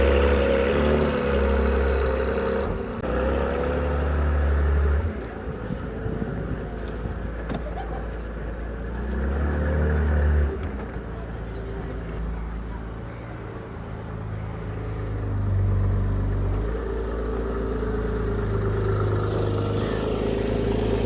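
A modified Porsche 911 SC flat-six idles steadily close by, its low rumble swelling and easing in slow waves over about twenty seconds, with faint whirring and no one talking.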